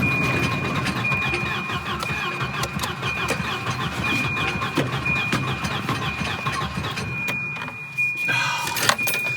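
An old Volvo 240 engine cranks continuously as it struggles to start, a loud, close churning whir with a steady tone, ending in a brief rough sputter without catching; no talking.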